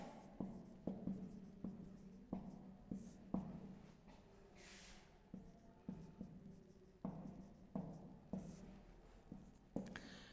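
A pen writes a Hindi word on paper during a lesson, with a steady series of short scratching strokes and taps, close and quiet, with no speech.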